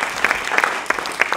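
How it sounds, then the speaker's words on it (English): Audience applause at a Caribbean heritage event, a steady clapping crowd with a few sharper individual claps standing out near the front. "A round of applause"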